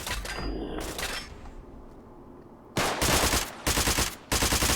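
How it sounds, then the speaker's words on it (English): Police carbine gunfire from an Armalite AR-180 in Fallout 4: a burst of rapid shots, a quiet pause, then three loud, close volleys of fast automatic fire separated by short gaps, with no talking. "that's the police carbine"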